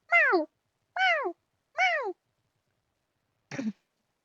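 A human voice imitates a panicked cat, giving three quick, loud, falling meows in a row. A fainter, shorter one follows after a pause, with silence in between.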